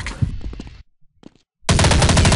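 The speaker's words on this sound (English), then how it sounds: "Why are you firing at me?" Counter-Strike gunfire comes in loud rapid bursts of automatic fire, with a short near-silent gap and a few scattered clicks between them. The final burst is dense and continuous, and no one talks over it.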